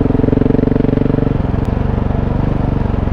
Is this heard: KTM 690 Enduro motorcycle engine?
yes